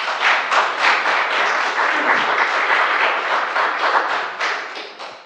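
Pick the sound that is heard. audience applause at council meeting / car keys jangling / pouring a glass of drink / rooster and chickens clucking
audience applause at council meeting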